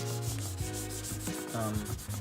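Steady rhythmic rubbing of sandpaper over a plastic car tail light lens, close and continuous, in repeated back-and-forth strokes with no voices.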